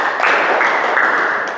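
Applause from a classroom of students for a student group after a presentation, a brief, steady patter of many hands clapping close by.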